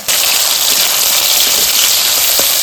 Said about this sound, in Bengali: এবার আমি আলুগুলো ভেজে নিচ্ছি।